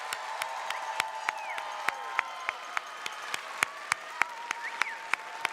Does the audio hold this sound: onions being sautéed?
no